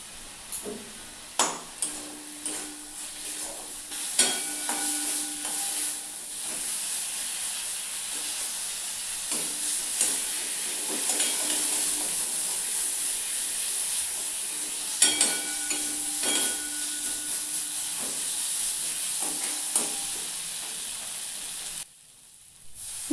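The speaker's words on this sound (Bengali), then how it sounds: "এরপর একটু হলুদ গুঁড়ো আর লবণ দিয়ে দিলাম তারপর আবারও ভালোভাবে মশলাটাকে কষাতে থাকলাম" Masala spiced with turmeric and salt fries in a pan, giving a steady, close sizzling hiss throughout, with occasional scraping stir strokes and a brief drop near the end.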